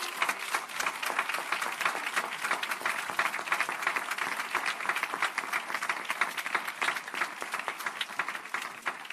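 A church congregation applauds steadily and loudly throughout, a dense continuous wash of many hands clapping with no pauses.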